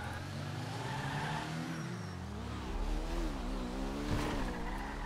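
A car driving and jumping in a video game: a continuous engine drone with the pitch sliding down and then rising again as the revs change, moderately loud and steady, with no voices over it.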